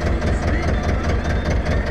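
A tractor engine with a newly replaced cylinder head runs steadily while pulling a harrow across a field, giving a loud, close, continuous low drone without pauses.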